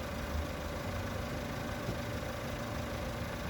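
A car engine idles steadily while a newly repaired gearbox is tested, a constant close low rumble with no change in pace and no voices.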